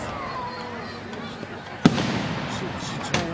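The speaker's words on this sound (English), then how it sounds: "Fireworks are so pretty." Fireworks exploding outdoors, a sharp loud bang followed by a second fainter burst, over a background of crowd murmur and people talking nearby.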